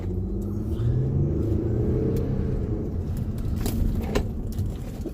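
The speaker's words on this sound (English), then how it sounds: "take it on a little test drive through your neighborhood" A car on a neighborhood test drive after new rear brake pads were fitted makes a steady low road rumble from inside the cabin, with faint clicks and a brief swell near the end. No one speaks.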